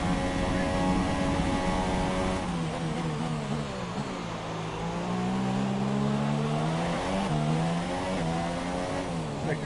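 A race car engine in a racing video game, set at the American Grand Prix, revs hard and climbs through the gears, with its pitch sweeping up and dropping at each shift. The engine stays loud and close throughout.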